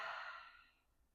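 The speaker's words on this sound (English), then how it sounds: "Inhale in, exhale out." A single soft, close breath lets out through the mouth in a brief sigh-like rush that fades within about a second, as part of a relaxed breathing exercise.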